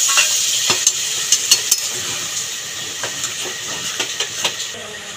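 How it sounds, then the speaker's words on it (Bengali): Soybean and potato curry fries in a pan with a steady broadband sizzle, punctuated by a series of sharp utensil clinks and stirring knocks against the pot. No one speaks. "এবার জল দিয়ে দেব।"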